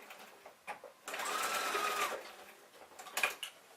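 Sewing machine top stitching a small jeans pocket piece with a back tack, a close steady mechanical whir running for about a second with brief starts and stops around it.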